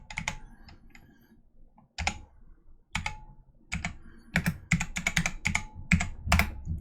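Typing an ingredient name on a computer keyboard, with crisp, close key clicks in short clusters separated by pauses, growing quicker and denser toward the end.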